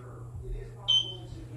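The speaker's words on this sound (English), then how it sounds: "I pushed the button, heard the beep, pressing next." A single short, high electronic beep from the sync button of a eufyCam 2 Pro security camera sounds once, brief and clear over a low steady hum.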